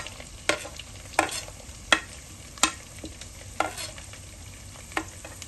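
Ginger fried with grated coconut and garlic in a pan, giving a steady soft sizzle broken by about eight sharp spatula scrapes and stirs, close and without voices.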